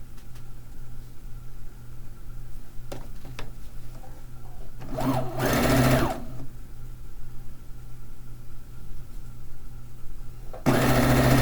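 Sewing machine stitching fabric fish pieces onto a quilt, a buzzing run of about a second midway and another starting near the end, close over a quiet room hum.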